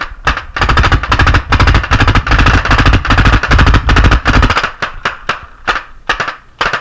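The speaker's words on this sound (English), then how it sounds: "you can hear the rate of fire changing on my marker as I shoot" Rapid bursts of sharp popping shots from a paintball marker fire in a fast continuous stream, loud and close, the rate loosening into separate pops near the end.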